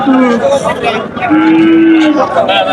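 Cattle moo loudly and close at a cattle market in Nalitabari, one long drawn-out low call following shorter ones, with other animals lowing faintly behind.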